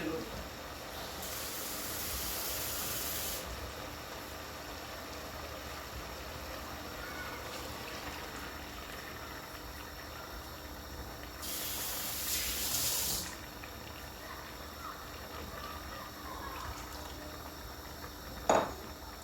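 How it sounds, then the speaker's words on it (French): Water poured into a cooking pot of mbika: two bursts of rushing, hissing liquid a few seconds long over steady background noise, close by. "Je vais rajouter l'eau."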